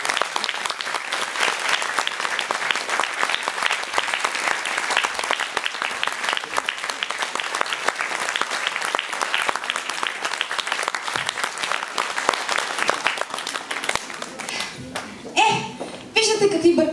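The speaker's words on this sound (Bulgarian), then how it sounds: "Моля, аплодисменти за тях." A school audience at a Christmas show applauds students on stage, steady sustained clapping filling the hall, tapering near the end as voices and a few chuckles come through.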